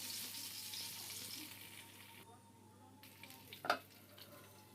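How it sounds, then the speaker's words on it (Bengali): Steady, bright sizzle of eggplant frying in hot oil, briefly quieter midway, with a single sharp clatter near the end. "এরপর বেগুনগুলো লাল লাল ভাজা হওয়ার পর আমরা নিয়ে নিব।"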